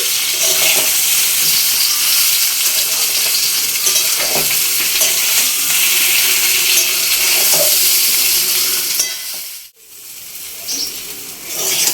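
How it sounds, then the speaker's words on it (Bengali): Raw mango pieces, coated in turmeric and sun-dried, fry in a pan with a loud, continuous sizzle and occasional stirring scrapes, briefly dropping out near the end before resuming. "আমটা আমি প্রায় ভেজে নিয়েছি"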